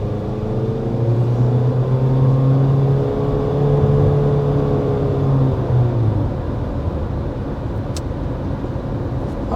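Steady road and engine noise from a 2025 Honda HR-V Sport cruising on a highway, a continuous low hum and tire roar from inside the cabin with slight drifts in pitch, no talking.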